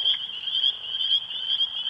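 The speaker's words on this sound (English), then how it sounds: "We just found a wood frog." A wood frog calls outdoors in a steady, continuous high-pitched chorus with a faint pulsing texture, fairly close and with no voices over it.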